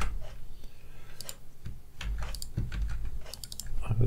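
Typing on a computer keyboard: a quick, irregular run of key clicks, close and moderately loud, over a low background hum, with no voices.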